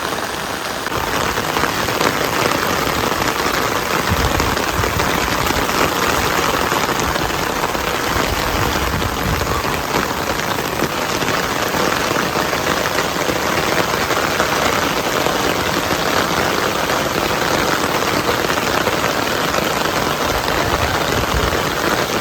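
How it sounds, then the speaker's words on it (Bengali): Heavy rain pours steadily and densely, a constant broadband hiss of drops hitting surfaces, with no voices and no letup. "এত সুন্দর বৃষ্টি নামছে, মানে অসম্ভব।"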